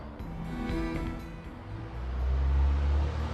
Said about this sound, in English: that truck got really loud